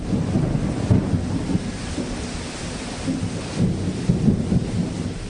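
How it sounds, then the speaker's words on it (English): Thunderstorm with steady rain, low rumbling thunder rolling continuously beneath a dense hiss of rainfall, fairly loud and close with no voices. "The rains have started."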